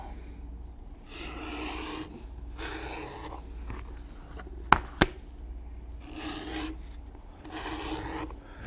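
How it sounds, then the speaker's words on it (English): An edge beveler shaving the edges of a leather strap for a biker saddlebag makes repeated close, dry rasping strokes about a second long, with two sharp clicks midway and no talk. "then we will use our edge beveler, and we will bevel completely around top and bottom."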